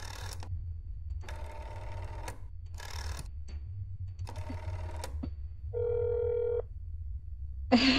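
Telephone call in a video game: bursts of buzzy ringing separated by silences, then a steady tone, a click and another burst, all fairly close and clear with no talking.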